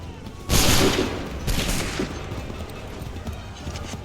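A musket volley in Assassin's Creed 3 Remastered breaks out as a sudden loud crackling burst, followed a second later by a second ragged wave of shots that trails off into a rumbling echo.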